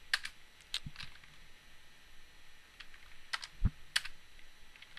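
Sparse, faint keystrokes on a computer keyboard, a few scattered clicks and short bursts with pauses between them, over a quiet room.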